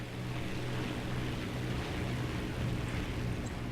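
Heinkel He 51 biplane engine in War Thunder at takeoff, a steady low droning hum holding at constant level throughout, with broadband wind-like rush over it and no voices.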